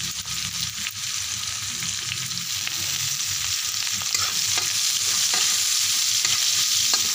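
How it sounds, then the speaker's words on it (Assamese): Chopped onions and red chillies fry in a pan for a fish curry, a steady, close sizzle with scraping stir strokes throughout and no voices. "পকা জলকীয়া দিছোঁ আৰু কুটি থোৱা পিঁয়াজ দিছোঁ। এইখিনি ৰঙাকৈ ভাজি ল'ম।"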